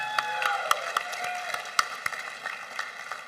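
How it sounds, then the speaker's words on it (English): A commencement ceremony audience gives another round of applause, scattered sharp claps standing out over a softer bed of clapping, moderately loud and with no talking. "Let's give her one more round of applause"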